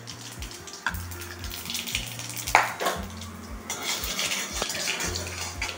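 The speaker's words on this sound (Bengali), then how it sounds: "তারপর তেলটা গরম হয়ে গেলে এটার মধ্যে একটা শুকনো লঙ্কা আর কালি জিরা ফোড়ন দিয়ে দেব" Dry red chili and nigella seeds tempering in hot mustard-style oil in a kadai for a vegetarian raw-banana bhorta, a steady crackling sizzle running throughout with a few sharper pops, close and fairly loud, no talking.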